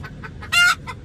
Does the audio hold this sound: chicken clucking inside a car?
yes